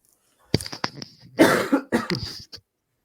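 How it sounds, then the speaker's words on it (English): A person with a head cold coughs in a run of sharp, wet bursts, a few quick coughs and then a longer heavy fit, close and fairly loud in a reverberant room. "I'll be coughing all night because I think I've got like a head cold"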